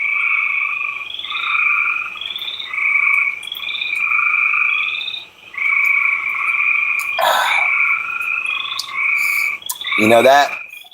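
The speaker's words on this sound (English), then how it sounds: "our little powwow here in the swamps, with our serenade of frogs" A dense chorus of frogs in a swamp croaks loudly and close, rhythmic trilling pulses repeating in steady bursts with brief pauses, one near call standing out late.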